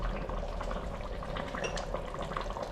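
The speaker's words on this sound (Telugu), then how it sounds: "కారంతో ఇక కూర ఉడుకుతుంది పొగలాడి ఉడుకుతుంది" Fish curry with chili simmers and bubbles in a pot, a soft continuous burble of small popping bubbles at low volume, with no voices.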